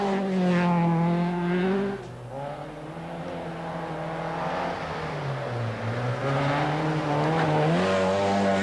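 An Opel Manta rally car on a forest stage at the 1985 Lombard RAC Rally roars close and loud, its engine note rising and falling through repeated revs and gear changes.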